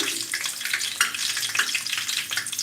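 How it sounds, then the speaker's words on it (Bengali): Cinnamon, bay leaves and cardamom fry in hot oil for pulao, a steady crackling sizzle with faint stirring, close and moderately soft, with no voices. "তিন টুকরা তেজপাতা আর পাতাটা এলাচ দিয়ে দিচ্ছি"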